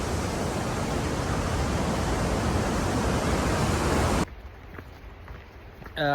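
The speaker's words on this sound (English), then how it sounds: "There's the waterfalls." A loud, constant roar of Kney Falls, a waterfall in Idaho, fills most of the clip, then cuts off abruptly to a much quieter background.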